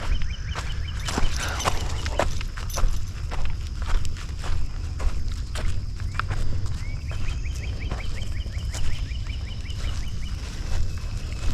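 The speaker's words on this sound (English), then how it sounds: "Horses." Horses walking on a trail in the Lower Green Swamp Nature Preserve in Lakeland, Florida, hooves clip-clopping in an irregular steady rhythm close by, with birds calling over the outdoor background.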